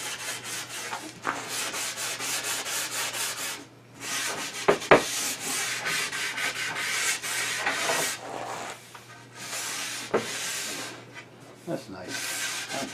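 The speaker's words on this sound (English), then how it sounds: "180 grit paper and give them one quick hit." A small wooden charcuterie board is sanded by hand with 180 grit sandpaper in quick back-and-forth rubbing strokes, a close scratchy rasp with brief pauses between passes.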